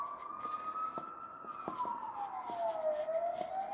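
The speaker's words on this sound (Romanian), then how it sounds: "trece o salvare, tot timpul trec salvările" An ambulance siren wails steadily as it passes by outdoors, its pitch sliding gradually downward, heard alone at moderate loudness with no speech.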